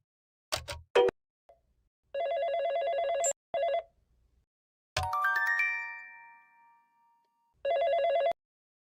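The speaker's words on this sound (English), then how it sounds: "Phone rings almost instantly" A telephone rings in repeated electronic trilling bursts, separated by clicks, a bright chime that rings out and fades, then another ring burst, fairly close and with no talking.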